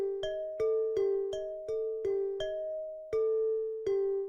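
A simple melody of bell tones, struck one after another at an even pace, each note ringing clearly and decaying before the next.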